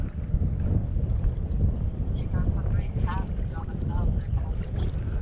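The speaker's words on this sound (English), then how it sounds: "I'm on my anchor, super windy out." Strong wind buffets a fishing boat riding at anchor on Lake Okeechobee, a steady loud rumbling roar of gusts against the microphone with faint water movement underneath.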